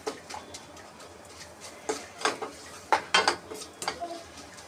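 Spices are stirred into mung dal masala khichdi in a pot, with a series of sharp scraping clinks from a metal spoon against the pot, coming in irregular bursts close up.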